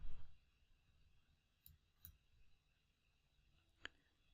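A computer mouse clicks a few times, faint and close, as single sharp ticks spaced irregularly over a quiet background.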